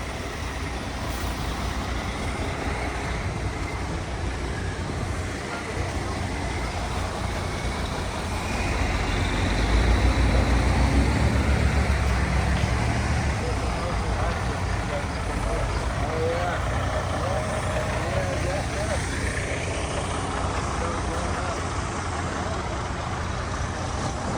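Trucks loaded with bulk corn idle before pulling out in Guatemala, a loud steady diesel rumble that swells briefly midway, with general traffic noise around and no clear talking.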